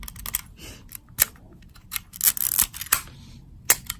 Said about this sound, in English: You can see the shutter moving.